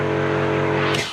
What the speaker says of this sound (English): you must turn on the pressure washer